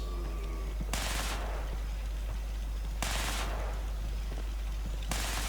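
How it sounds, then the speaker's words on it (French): Video game gunfire arrives in three loud, sharp bursts spaced about two seconds apart over a constant low hum. "Il y en a un qui vient de tirer, oui."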